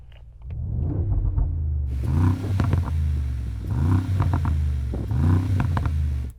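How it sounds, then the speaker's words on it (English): A Mercedes-AMG G63 with a sports exhaust idles deeply and then revs hard several times in a row, loud and close, with a throaty, crackling exhaust note. "Yanni's also fitted a sports exhaust."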